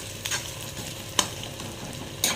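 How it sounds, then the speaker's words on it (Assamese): Onions fry and are stirred in a pan while cooking a small-fish dish, with a continuous close sizzle broken by three sharp scraping clicks of the spatula at uneven intervals. "পিঁয়াজখিনি একদম ৰঙচুৱা হৈ লওক"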